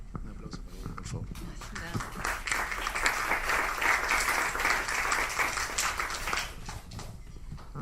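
Audience applauding a poet at a literary event, a full round of clapping that swells and holds steady, with voices mixed in.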